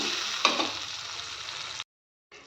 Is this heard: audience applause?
no